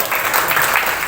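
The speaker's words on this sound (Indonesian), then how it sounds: "Tepuk tangan." Applause from a group at a fire department disaster-preparedness drill, a dense, loud, steady wash of clapping heard alone over a short stretch.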